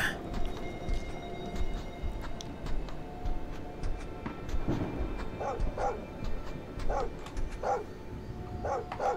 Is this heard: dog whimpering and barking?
yes